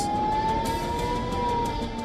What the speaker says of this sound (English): Blaring sirens